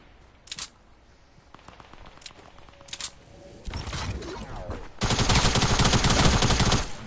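TAC SMG fire in Fortnite: scattered single shots early on, then a dense, loud sustained automatic burst over the final two seconds, with no talking.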